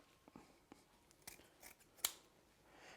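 Scissors snip through a ribbon bow for a Christmas garland, giving several quiet, close cuts and one crisper snip near the end in an otherwise quiet room.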